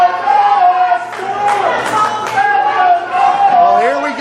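Crowd at a pro wrestling event cheers and yells in a dense, close wash of voices with scattered claps and bursts, steady throughout.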